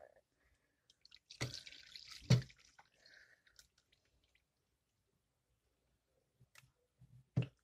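A coffee maker brewing ramen noodles lets out a few sharp, isolated drips and clicks that are faint and widely spaced, with long quiet gaps between them.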